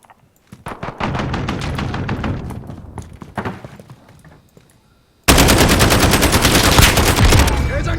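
Rapid automatic fire from a SCAR rifle in Modern Warfare, loud and close, in sustained bursts with a brief lull before an even louder, denser stretch of shots.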